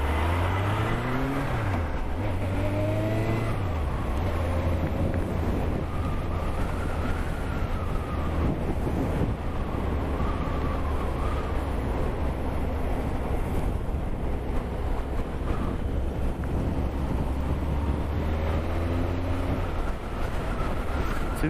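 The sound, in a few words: Suzuki GSX 1200 Inazuma motorcycle riding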